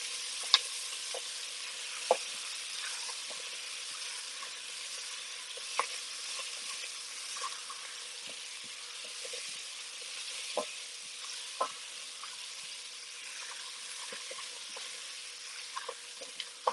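Coconut curry ingredients stirred in a pan, with a steady soft sizzle and occasional light clicks of the spoon against the pan, close and fairly quiet throughout.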